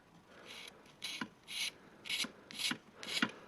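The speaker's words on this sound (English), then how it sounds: "you can just get a tiny little file like this" A graphite pencil lead is scraped with a tiny file in about six short rasping strokes at a steady rhythm, close and fairly quiet, with no talking.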